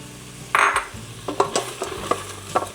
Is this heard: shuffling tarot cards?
no